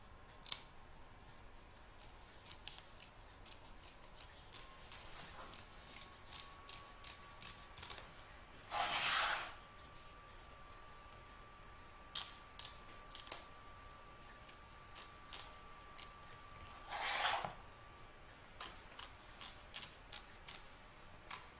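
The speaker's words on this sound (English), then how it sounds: "I'm now going to trim up all the excess fabric from around the soldier and from around the inner frame." Scissors snip around an appliquéd soldier and the inner frame of a fabric mug rug, giving many short, crisp cuts at a steady pace. Two longer, louder bursts of cutting stand out, and a faint steady tone runs beneath.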